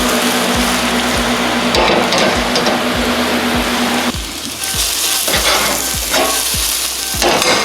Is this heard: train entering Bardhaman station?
no